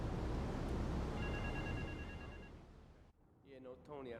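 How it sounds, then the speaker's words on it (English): A telephone rings in the video game Grand Theft Auto 3, a brief electronic trill rising over steady background ambience before a voice speaks at the end. "I hear a phone."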